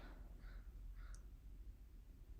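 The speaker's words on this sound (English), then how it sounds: "You can hear crows." Faint, distant crows caw a few times, with harsh calls spaced apart over a low background rumble.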